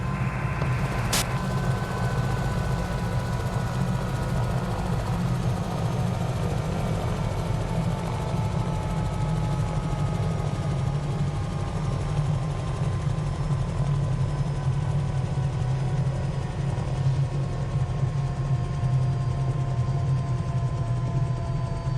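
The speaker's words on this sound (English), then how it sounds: "Start your engine." A helicopter's turbine engine in Microsoft Flight Simulator 2020 drones steadily and close by. A whine under the low rumble slowly drops in pitch while the engine runs without a break.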